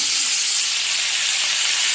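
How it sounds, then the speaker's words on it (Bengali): Raw tomato hits hot oil with mustard seeds and dried chilli for a tempering, giving a loud, steady sizzling hiss that holds evenly throughout, close up and with no talking. "সর্ষেটা ফোড়ন দিলে এবার টমেটোটা দিয়ে"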